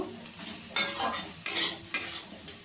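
Eggs frying with vegetables in a pan, a low sizzle punctuated by three or four sharp, close scraping strokes of a spatula stirring the mixture, with no one speaking.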